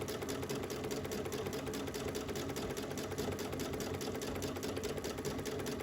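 A Brother Luminaire sewing machine doing free motion quilting on fabric, a fast, even, continuous rattle of stitching running throughout at close range.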